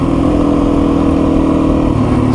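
A Yamaha TW200 dual sport motorcycle with a freshly rebuilt carburetor drones loudly and steadily at high revs while riding, a close, unbroken engine buzz.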